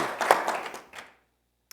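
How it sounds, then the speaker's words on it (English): An audience at a talk gives a short burst of clapping that thins out and stops within about a second, leaving silence and a single faint tap. "give it a round of applause"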